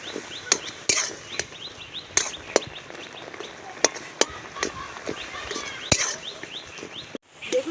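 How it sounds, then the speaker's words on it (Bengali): A metal spatula knocks and scrapes against a pan while mashing cooked raw mango, giving sharp, scattered clinks at irregular intervals over a quiet background. "আমি খুন্তি দিয়ে ভালো করে ঘেঁটে দিয়েছি"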